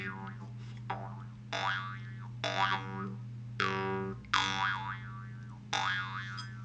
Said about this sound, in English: It's like duh, boing.